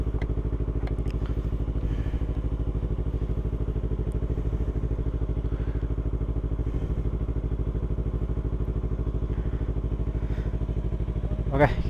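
A 250cc motorcycle idles while warming up before a ride, a steady, close, rapid engine putter that holds evenly throughout, with a few faint clicks and a louder knock at the very end.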